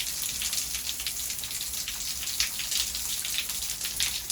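Steady rain falls on a rainy day in Georgia, USA, a dense, continuous hiss of drops with no one speaking.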